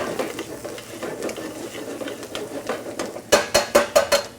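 Minced garlic sweating in a pan with celery, onions, bay leaves and peppers for a Maine lobster paella, a soft steady sizzle with a few stirring scrapes, then a run of sharp utensil clatters against the pan near the end.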